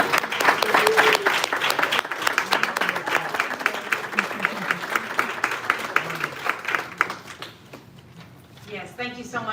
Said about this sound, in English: let us applaud you for all the hard